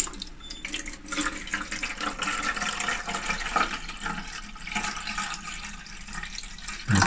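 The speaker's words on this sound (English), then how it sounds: "Put a little bit of water into your reservoir." Water poured into the reservoir of a Flight Clave16 Class N autoclave steam sterilizer, a steady liquid splashing and trickling that runs for several seconds at moderate level with no talking.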